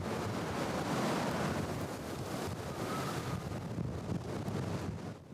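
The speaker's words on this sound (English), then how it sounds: "Wind gusts that reached up to 80 miles an hour." Strong wind in Southcentral Alaska roars steadily and loudly over the microphone as gusts reach up to 80 mph, bringing blowing snow and whiteout conditions; dense, buffeting rumble throughout with no voices.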